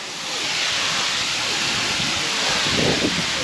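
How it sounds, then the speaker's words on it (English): A waterfall in South Wales roars up close, a dense, loud, unbroken rush of falling water with no talking. "I've got to go under the waterfall"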